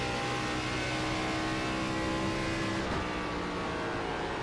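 An ARCA race car on the Iowa oval in the iRacing sim drones with a steady, dense engine tone as the throttle is fed in gradually, continuous and even with no voices.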